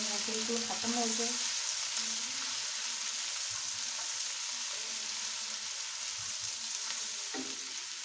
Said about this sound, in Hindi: हम 2 से 3 मिनट बिल्कुल स्लो फ्लेम पे फ्राई करेंगे ताकि जो इसकी स्मेल है वो ख़त्म हो जाए।